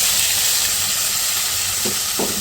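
Marinated chicken pieces, seasoned with chili and salt, fry lightly in hot oil as a steady, close sizzling hiss, with a couple of brief stirring knocks near the end.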